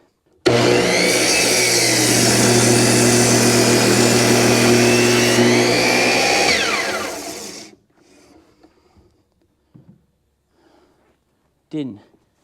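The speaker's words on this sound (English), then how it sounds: "I have a chop saw, about 30 degrees." A chop saw whines through a piece of wood at roughly a thirty-degree angle, a loud, steady high-pitched motor roar lasting several seconds before spinning down, followed by quiet handling noises and a brief voice.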